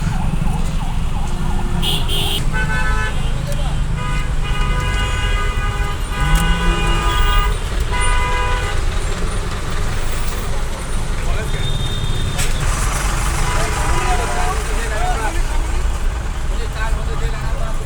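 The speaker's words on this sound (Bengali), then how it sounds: "শত শত বাস দাঁড়িয়ে আছে পরীক্ষার্থীদের নেওয়ার জন্য" Horns blare repeatedly from buses and cars in dense traffic, some long and tonal, others short toots, over a constant engine rumble with voices mixed in.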